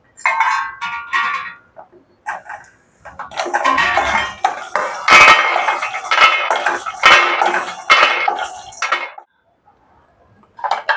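Roasted peanuts scraped from a pan onto a plate, loud repeated metal-on-metal clanks and scrapes of a spoon against cookware in irregular bursts, with short quiet pauses between, no talk.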